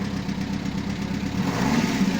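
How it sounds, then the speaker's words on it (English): A car engine held at a slight rev to bring up the charge and clear the ignition light after battery work, a steady, close, mid-pitched drone with a faint knocking texture and a small rise in revs near the end. "little rev, just to get the ignition light out"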